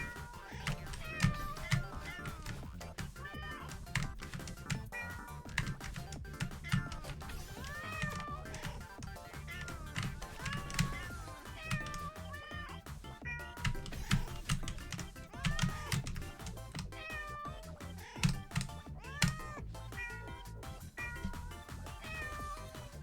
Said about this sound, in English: these are meow bumpers